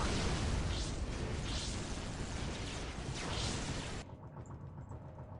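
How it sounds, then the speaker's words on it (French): Psychic explosions from an Eldar Farseer in Dawn of War roar as a loud, dense, broadband blast lasting about four seconds, then cut off abruptly to quieter background sound. "les explosions Eldar, si c'est la grande prophétesse, c'est des explosions psychiques"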